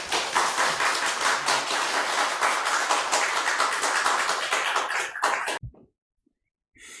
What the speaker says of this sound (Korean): 우리 교수님 나오실 때 큰 박수로 환영해 주시면 좋겠습니다.